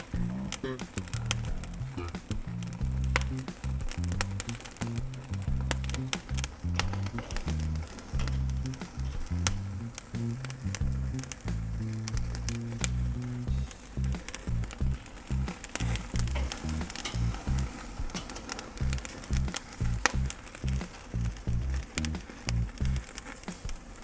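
A porterhouse steak sizzling on a grill as grease catches fire: a continuous crackling patter and hiss with sharp pops throughout, over steady low music or background sound.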